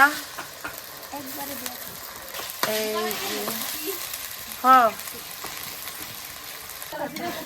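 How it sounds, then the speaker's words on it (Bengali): Spice paste of ground turmeric, chili, coriander, ginger-cumin paste and salt fries with meat in a pot for a village picnic khichuri, with soft sizzling and scraping stirs under intermittent talk and voices in the background. "হলুদের গুঁড়া, মরিচের গুঁড়া, ধনিয়ার গুঁড়া সবকিছু দিয়ে লবণ টবণ দিয়ে মশলাটা ভালো করে কষা নিতেছে"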